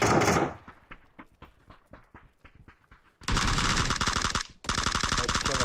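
Gunfire rings out in PUBG, starting with a loud burst, then a run of rapid single shots, then two long, dense, very loud automatic bursts with a brief gap between them.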